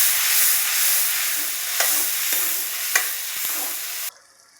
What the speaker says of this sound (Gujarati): અને ડુંગળી અને ટમેટાની ગ્રેવી નાખશું. સરસ રીતે મિક્સ કરી લઈશું.